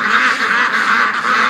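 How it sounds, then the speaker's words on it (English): Dozens of ducks in a swamp quack loudly and continuously, a close, overlapping chorus of nasal calls with no gaps. "it looks like about maybe 50, 75 ducks are in the swamp"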